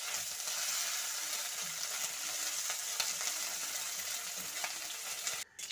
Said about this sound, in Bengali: তো একটু কড়া করেই ভাজবো।